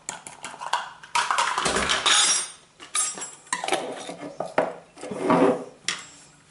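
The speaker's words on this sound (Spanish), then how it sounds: "Movemos y mezclamos bien." A dessert spoon stirs and scrapes a citric acid mixture in a bowl, giving irregular gritty scraping and clinking strokes with brief pauses, close and fairly loud.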